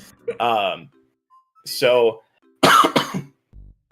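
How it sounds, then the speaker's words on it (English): Several voiced coughs or throaty vocal bursts come in three separate outbursts, close up, with quiet gaps between them. "Apologies, still have the cough."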